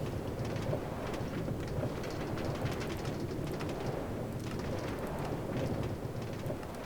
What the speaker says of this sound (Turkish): Senin evine giden tren.